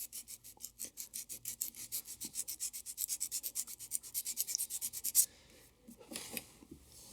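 Sandpaper rasps against wood in corners in fast, even back-and-forth strokes, a couple dozen in a row, then stops, followed by a few faint handling sounds.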